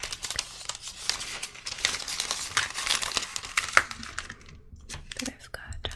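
Shiny origami paper crinkled and rustled close to the microphone, a continuous crackly rustling with sharp crisp bursts, soft and intimate, with occasional voice beneath.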